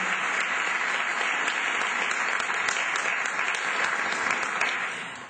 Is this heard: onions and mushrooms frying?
no